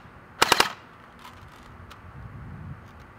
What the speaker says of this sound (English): I'm gonna shoot it at full auto and let's see how cool it's gonna be